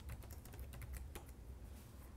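Fingers tap on a computer keyboard during office software setup, giving a quiet run of scattered, irregular keystroke clicks close to the microphone over a low background hum.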